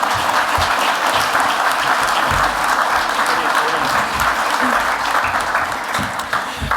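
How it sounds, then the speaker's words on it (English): An audience at a foreign policy panel event applauds steadily and loudly, a dense, continuous wash of clapping that holds through the whole stretch and eases only slightly at the end. "keep the applause going for our panellists"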